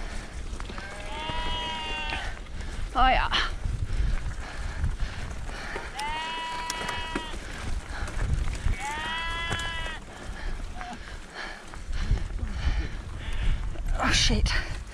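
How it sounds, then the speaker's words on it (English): Sheep on a Welsh hillside beside a mountain bike trail bleat several times, clear and fairly close, over rustling outdoor noise, with people speaking briefly. "Easy sheep."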